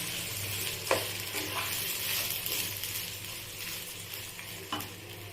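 Drained Gobindobhog rice fries in a pan over raised heat, a steady soft sizzle running throughout with occasional scrapes and taps as it is stirred.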